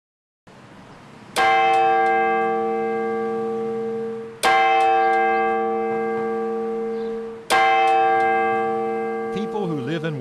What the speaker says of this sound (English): People who live and work in Nicholasville can mark the passage of the day by the chimes that ring from the courthouse tower.